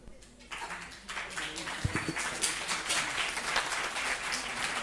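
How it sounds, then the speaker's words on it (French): An audience at a lecture on the economy and inner transition breaks into sustained applause for the speaker, a dense, steady clapping that fills the room. Voices talk briefly at the start. "j'ai un grand applaudissement pour notre orateur"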